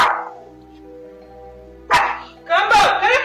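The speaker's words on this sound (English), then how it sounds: "A couple was watching TV with their dog when it suddenly began barking" A pet dog barks indoors in a living room where a TV plays, with a few sharp, loud barks in quick bursts near the end over a low background hum, and a voice is heard around it.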